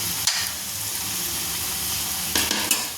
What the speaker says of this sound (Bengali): খুব অল্প ভেজে নিতে হবে বেশি ভাজা হবে না